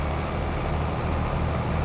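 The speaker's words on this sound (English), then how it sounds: "I reckon it's time to get the truck fired up and go pick them up." A truck in Farming Simulator 22 starts up with a hiss of air brakes, a dense, steady, loud mechanical noise with no voices.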